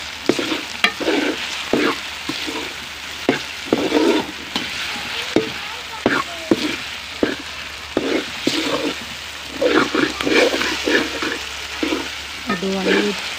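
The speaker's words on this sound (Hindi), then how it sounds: "अच्छी तरह भून लेंगे" Spices with turmeric and salt frying in a pan, loud steady sizzling close by, punctuated by repeated scraping stirs of a spoon at an uneven rhythm throughout.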